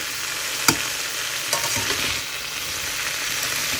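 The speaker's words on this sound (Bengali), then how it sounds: "ভালো করে এই মশলার সঙ্গে একটুখানি কষিয়ে নেব" Potatoes and tofu are sautéed with spices in a pan, giving a continuous close sizzle with a few sharp stirring scrapes and clicks over it.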